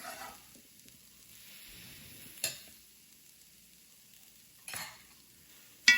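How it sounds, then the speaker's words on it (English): Mushrooms and parsley are stirred in a frying pan, with three short scraping strokes over a faint background sizzle in an otherwise quiet kitchen. "Give it a quick stir."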